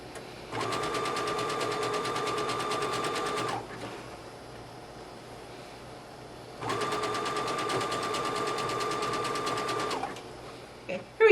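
A sewing machine zigzag-stitches along a fabric edge while making a dress, in two sustained runs of rapid, rhythmic, close-up whirring separated by a quiet pause.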